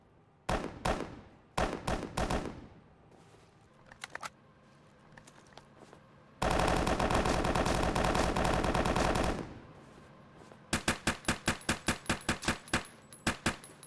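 Gunfire from shooting at AI enemies in the video game BRM5: scattered bursts and single shots, then a long sustained automatic burst lasting about three seconds, followed by a rapid series of evenly spaced loud shots.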